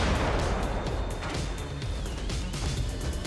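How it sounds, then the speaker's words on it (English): In the video game Brigador, continuous machine gun fire rattles in a steady wash of rapid pops over a constant low rumble, fairly quiet and even throughout, with no voices. "I'm not really worried about these machine guns."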